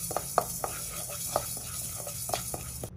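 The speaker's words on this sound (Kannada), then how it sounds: "ಮೊದಲಿಗೆ 1/2 ಸ್ಪೂನಷ್ಟು ಮೆಂತ್ಯೆ 1/2 ಭಾಗದಷ್ಟು ಹುರ್ಕೊಳ್ಬೇಕು" Fenugreek seeds are stirred and dry-roasted in a pan for a dried-tomato pickle, with soft sizzling and scattered light scrapes and clicks of a spoon against the pan, fairly faint and without talk.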